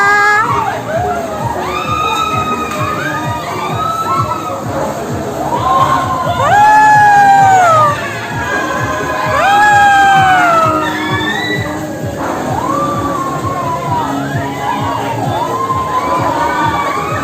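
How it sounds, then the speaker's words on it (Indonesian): Riders on an amusement park rollercoaster scream together in long, loud, shrill waves that swell and fade over a steady rumble of the ride, the crowd's cries rising to several peaks. "Siapa itu teriaknya paling kencang?"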